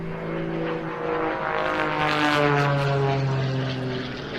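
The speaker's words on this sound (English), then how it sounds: "that is more or less sufficient for the aircraft to enter brief periods of hover" A highly customised propeller aircraft with enlarged wings drones overhead at the Jersey International Air Display, its engine a loud, steady tonal hum with shifting pitch as it passes.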